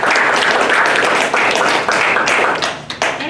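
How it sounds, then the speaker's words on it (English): Loud, dense applause from a room of attendees at a school board meeting, sustained for several seconds before tapering off with a few scattered claps near the end. "So I would, again, a round of applause for Mr."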